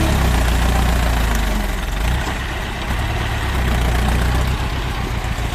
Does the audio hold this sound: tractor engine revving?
yes